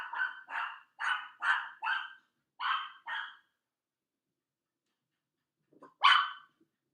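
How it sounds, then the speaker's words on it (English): A puppy yaps close by in a quick run of about eight sharp barks, goes quiet for a couple of seconds, then gives one final louder bark. "There goes my puppy."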